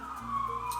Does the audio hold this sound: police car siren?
yes